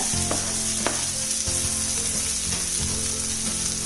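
Onion, green chilli and curry leaves frying in a pan for a drumstick thoran, giving a continuous close sizzle broken by the scrape and knock of stirring.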